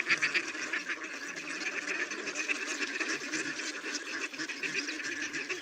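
Ducks quacking continuously as a dense, steady flock chorus on a farm, close and fairly loud, with no clear speech over it.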